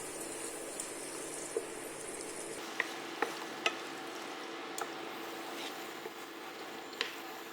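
Dried chilies, cumin and mustard seeds sautéing with onions and garlic in a pan, a soft continuous sizzle that drops quieter partway, punctuated by a few sharp utensil clicks and scrapes.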